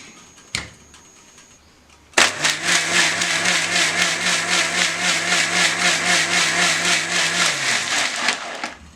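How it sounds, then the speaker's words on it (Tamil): A mixer grinder whirs loudly and steadily for several seconds, crushing ice cubes with jigarthanda ingredients; a lid clicks before the motor starts and abruptly stops near the end. "இப்போ இதெல்லாம் மிக்ஸ் ஆகிற அளவுக்கு லைட்டாக அரைச்சிக்கணும்"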